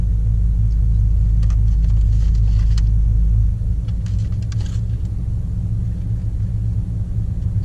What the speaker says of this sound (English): There's a car back there.